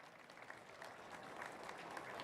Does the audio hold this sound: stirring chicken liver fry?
no